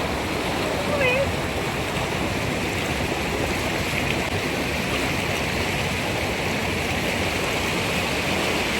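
Clear water of a stream near Yosemite Falls rushing over rocks as a dense, steady roar that fills the whole clip, loud and close, with a faint voice barely audible under it.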